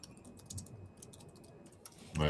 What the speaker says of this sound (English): Let me just stop typing in, or stop talking and type for a second.